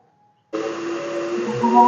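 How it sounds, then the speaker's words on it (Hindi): After a brief near-silence, an electric kitchen grinder in a mountain village home starts abruptly and runs loud and steady, a whirring motor drone with a tonal whine that rises slightly toward the end. "अभी जाते हैं जी, चलाते हैं ग्राइंडर और उसको अच्छे से ग्राइंड करते हैं"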